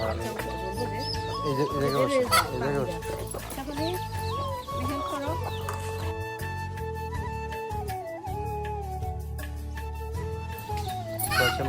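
Desi hens cluck with their brood of chicks, steady clucking and high peeps continuing while people talk over them at close range.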